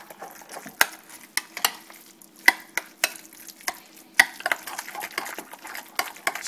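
A utensil stirs and scrapes through tzatziki sauce for gyros in a bowl, making close, uneven clicks and taps with soft wet mixing in between and no talk.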